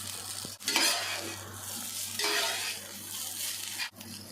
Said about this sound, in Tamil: இப்போ நல்லா கிண்டி விட்டுருவோம்